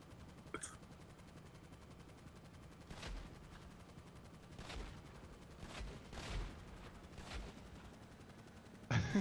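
Gunfire in GTA V during a heist, scattered distant shots popping every second or so beneath a steady background hum, with a louder burst at the very end.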